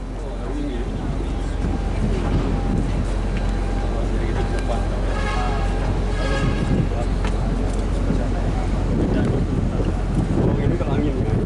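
Steady wind roars across the deck of the cargo ship Meratus Gorontalo on its maiden voyage, a loud continuous broadband rush with low rumble, while people talk faintly beneath it.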